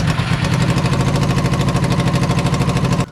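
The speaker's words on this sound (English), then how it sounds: "Well, the muffler doesn't work at all really, because there's a bunch of leaks." A Honda CBR 600 engine with a badly leaking muffler runs loud and close in a rapid, even pulsing rumble, ringing with harsh overtones, then cuts off abruptly near the end.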